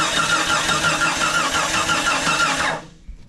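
Damaged Jeep XJ engine that knocked off its harmonic balancer cranking and turning over, a loud close rough mechanical churn for under three seconds before cutting out abruptly.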